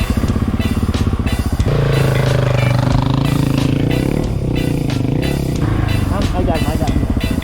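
A motorcycle engine starts and settles into a loud, close, throbbing idle with steady rapid pulses and a few revs, while people talk nearby.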